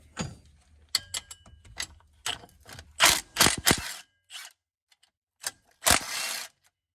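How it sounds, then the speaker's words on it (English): Bolts come out of a Honda Pioneer 700 engine during a camshaft replacement, heard as scattered close metallic ticks, ratchet clicks and scrapes with several louder bursts and short silent gaps between them. "So we're going to take these bolts out"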